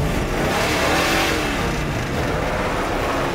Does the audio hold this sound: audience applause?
no